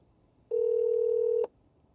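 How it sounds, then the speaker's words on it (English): Call tone from an outgoing phone call placed through Android Auto in a car, one steady electronic beep about a second long, clear and alone over faint background hum. "So now it's placing the phone call."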